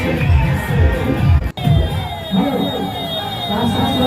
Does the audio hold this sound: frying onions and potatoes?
no